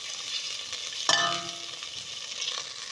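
Butter melts in a pan for béchamel, a gentle continuous sizzle with one sharp metallic scrape of a utensil against the pan about a third of the way in, then cutting off abruptly.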